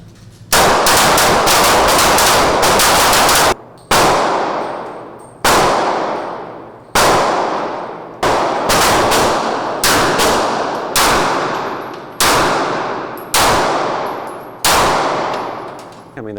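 Loud gunshots at a shooting range during a timed six-round drill, starting with a rapid burst and followed by single shots spaced a second or two apart, each ringing out with a sharp crack and decaying echo.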